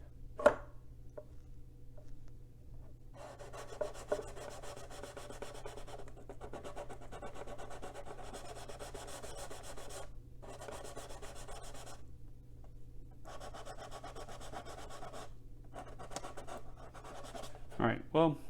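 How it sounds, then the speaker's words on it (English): Repeated rasping strokes of sanding on a 1/350 scale plastic RMS Titanic model, in bursts of several seconds separated by short pauses, close and fairly quiet. "Probably a little more sanding."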